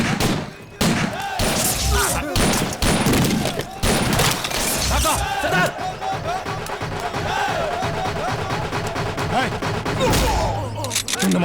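Police open fire in a Hindi action film scene, rapid bursts of gunshots and heavy thuds over a dramatic music score, with shouting voices in between.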